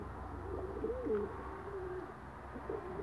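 Racing pigeons coo softly in a loft, a few low, rolling calls rising over a steady background hum, moderately close and unaccompanied by talk.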